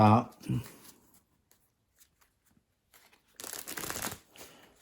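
Playing cards are shuffled in a quick riffling burst after a brief murmur, with soft taps and faint rustles in the quiet between.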